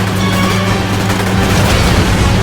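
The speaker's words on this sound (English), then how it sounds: "Pass close to explosions." Loud, dense rumbling explosions in the video game Stuntman: Ignition roll over a constant low vehicle engine drone, forming a heavy, chaotic wall of noise.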